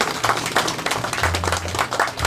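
Audience applause at a Korean community event honouring Song Heum, a steady wash of many hands clapping that carries on without pause through the short stretch, moderately loud with some low hum underneath.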